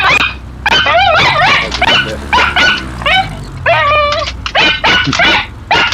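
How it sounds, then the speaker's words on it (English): A dog outdoors at a bush airstrip in Alaska barks, yips and whimpers excitedly in a rapid run of loud, close, high-pitched cries with no talk over it. "This dog's going absolutely batshit."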